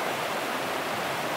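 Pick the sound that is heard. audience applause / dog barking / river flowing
river flowing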